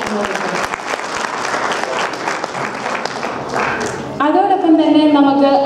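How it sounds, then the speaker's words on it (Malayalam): An audience at a gathering breaks into a burst of clapping that fills the space for several seconds, then fades as a voice starts speaking over a microphone. "നല്ലൊരു കയ്യടി കൊടുത്ത് നമുക്ക് അദ്ദേഹത്തെ അനുഭവിക്കാം"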